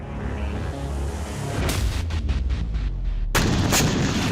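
Rocket and artillery fire on a military headquarters in a clash between Hezbollah and Israel: a low rumbling roar, then a series of sharp, loud blasts and a sudden heavy burst near the end.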